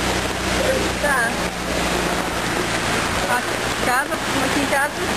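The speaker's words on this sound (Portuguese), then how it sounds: "A água já tá passando por cima da ponte." Floodwater rushes over a bridge during heavy rain, a steady loud roar of water and rainfall filling the scene without pause, with a few faint voices and chirps in the background.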